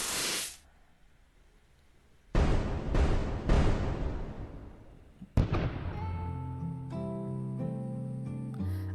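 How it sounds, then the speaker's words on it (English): Fireworks shot from a shoulder-mounted launcher on a quiet night: a hissing launch trail, then several loud cracking booms close together, followed by a musical score rising beneath the final burst. "A thin trail of fire cuts through the silent night, followed by a thunderous boom."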